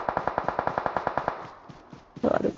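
Rapid automatic gunfire from PUBG gameplay rattles off in a steady burst of about a dozen sharp shots, then stops; scattered faint clicks follow before a short loud noise near the end.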